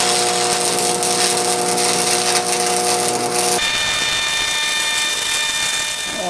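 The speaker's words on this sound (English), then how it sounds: "I'm gonna weld down through here though." Stick welding with a welding rod on a steel trailer hitch, a loud, steady crackling buzz that runs on without a break and changes tone partway through, with no talking.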